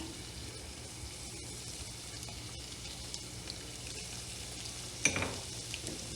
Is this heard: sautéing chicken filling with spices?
yes